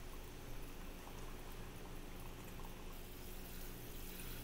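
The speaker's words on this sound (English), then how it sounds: "take the shower head and put it in the washer side." Water from a shower head pours steadily into the washer tub of a mini portable washing machine, a continuous close splashing rush with no pauses and no voices.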